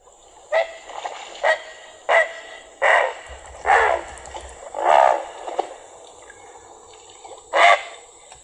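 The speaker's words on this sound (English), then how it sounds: "Here is a great blue heron." A great blue heron gives a series of about seven harsh, croaking calls, each short and rasping, spaced irregularly over a quiet background.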